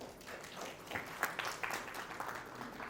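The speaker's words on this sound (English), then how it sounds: "Please welcome a round of applause for all our dignitaries." A conference audience applauds to welcome dignitaries, a fairly faint, sustained patter of clapping with a few sharper claps rising near the middle.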